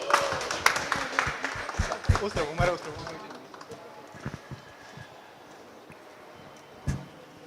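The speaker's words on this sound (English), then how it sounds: "ladies and gentlemen, please, a massive round of applause" Applause and clapping from a crowd at a skincare product launch event on stage, a dense burst of claps in the first few seconds that thins out and fades, with scattered voices and a single late clap.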